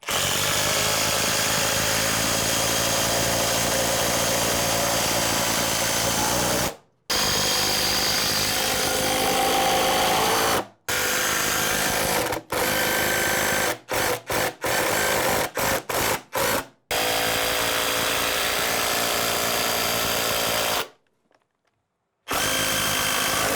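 A power driver sinks four TimberLOK screws into a rotted-out sill plate over a basement bulkhead opening, loud sustained whirring bursts separated by brief pauses, up close with no talking.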